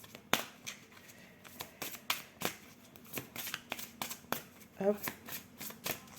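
Tarot cards shuffled and drawn by hand, a run of crisp riffling snaps and flicks in an uneven rhythm, close and moderately loud, with a person speaking briefly over them.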